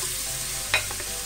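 Onion and garlic fry in oil in a pot for ají de papalisa, making a constant close sizzle with one brief clink of a spoon against the pot.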